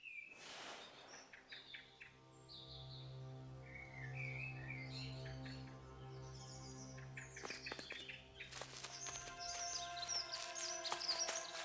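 Birds chirp and tweet in short, scattered calls in a video game scene, faint and airy over a quiet sustained musical drone, with a denser burst of chirping near the end.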